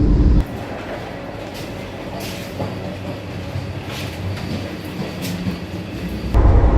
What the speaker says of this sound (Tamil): ஒரு சூப்பரான வந்தே பாரத் ட்ரெயின் தான்.